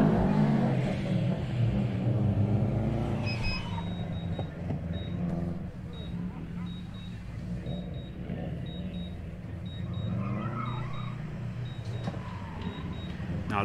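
A Subaru works through a gymkhana course at a motor club event, its engine note droning and rising as it heads for a bike chicane after a handbrake turn, heard at some distance with faint voices in the background.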